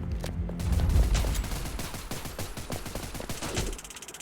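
Rapid bursts of video game gunfire crackle through the whole stretch, loud and close, with sharp shots clustering into fusillades and machine-gun volleys and no talk over them.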